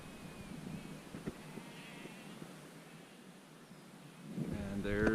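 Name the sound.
sheep bleating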